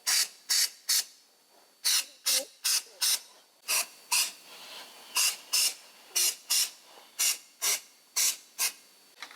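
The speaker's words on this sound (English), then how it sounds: "the spray is gray. That's because I'm using a pigmented stain blocker." Repeated short hissing bursts of aerosol pigmented stain blocker spraying over a water stain, in quick pairs and singles with brief pauses, close up and with no talking.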